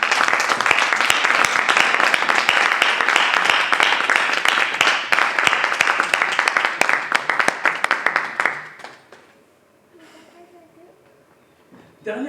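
Church congregation applauding loudly and continuously, a dense wash of clapping that fades out near the end into quiet room tone.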